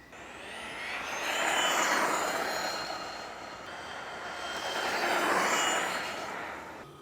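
A Tekno MT48 2.0 1/8-scale RC monster truck on a 4S battery making speed passes, its electric whine rising and fading twice as it approaches and moves away, with no voices.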